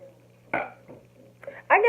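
A person lets out a drawn-out burp during a burping challenge, with short throaty bursts in between, close and fairly loud, surrounded by brief talking.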